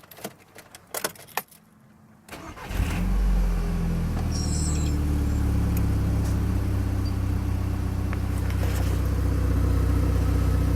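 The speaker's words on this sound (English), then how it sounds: "it removes all the kinks in the old exhaust line, and it purrs" Keys jangle briefly, then a Volkswagen GTI Mark 6 with Unitronic Stage 2 tune starts and settles into a deep, steady, throaty exhaust idle that continues loudly to the end.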